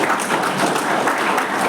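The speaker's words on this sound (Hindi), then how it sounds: "मेहमानों के लिए तालियां बजाइए।" A crowd at a school awards ceremony claps for the guests, a continuous dense burst of applause with no talking over it.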